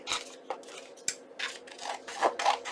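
Scissors snip through freshly glued paper in a quick run of short, close, crisp cuts with small pauses between them.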